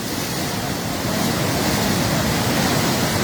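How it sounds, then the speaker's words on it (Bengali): Floodwater from the Khowai river rushes through a breached embankment at Jalalabad, Habiganj, making a loud, dense, unbroken roar that stays steady throughout. "পানির বেগ কমছেই না"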